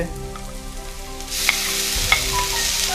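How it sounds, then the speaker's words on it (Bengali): Ginger garlic paste fries in a pan for a Bengali egg curry, a steady sizzle that swells louder midway, with a couple of sharp spoon clinks as it is stirred. "আদা আর আমি রসুনটাকে পেস্ট করে রেখেছিলাম সেটাকে এখন দিয়ে দিলাম এর মধ্যে"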